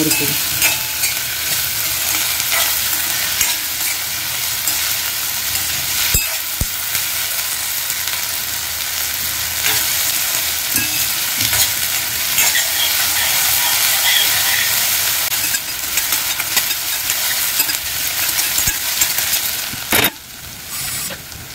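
Potato pieces sautéing in a hot pan for a sponge gourd dish, a steady loud sizzle and hiss with occasional stirring scrapes, no talking.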